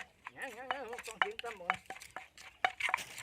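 Food being pounded in a mortar outdoors in a rice field at evening, with quick uneven thumps and clacks mixed with lively talking voices close by.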